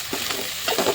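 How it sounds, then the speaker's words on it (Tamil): Onions sautéing in a pan for potato masala, a steady soft sizzle with occasional stirring scrapes, close and fairly quiet, no talking. "வெங்காயம் ஆட் பண்ணியாச்சு. இப்போ நம்ம வந்துட்டு இது நல்லா வதங்கட்டும்"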